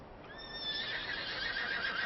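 A horse whinnies in a long, high, wavering call over a steady hiss of background noise, with faint hoof clatter beneath.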